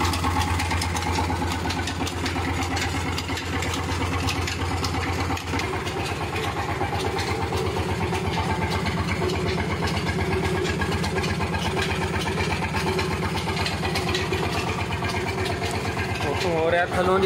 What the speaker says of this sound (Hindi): रिपीटर इंजन से चलाई है मशीन।